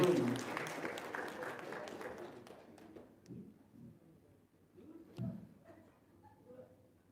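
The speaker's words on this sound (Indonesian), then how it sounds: "Ya tepuk tangan dong." An audience applauds at a talk, a burst of clapping that fades over a few seconds, followed by scattered voices and shuffling at low level.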